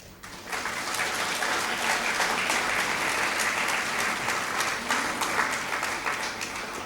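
An audience at an MBA batch inauguration ceremony claps in a steady, dense burst that starts abruptly and holds evenly at moderate loudness for several seconds.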